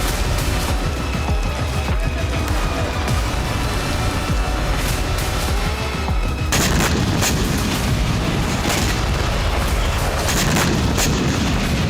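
Heavy gunfire and booming blasts crackle continuously in war footage from Ukraine, with a louder surge of shots and explosions partway through, dense and chaotic throughout.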